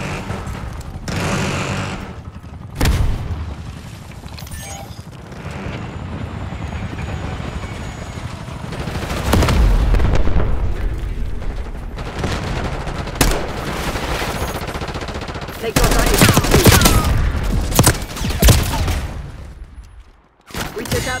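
Gunfire in Call of Duty Black Ops 6 on the Rewind map in Kill Order mode, with loud bursts of automatic fire and fusillades separated by quieter stretches, and occasional game voice callouts over the action.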